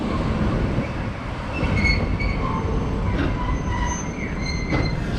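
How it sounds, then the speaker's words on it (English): A slow tram rolls through Sapporo near the station amid office towers, a steady rumbling wheel-on-rail drone with faint metallic squeals and clicks throughout, continuous and moderately close. "So the tram,"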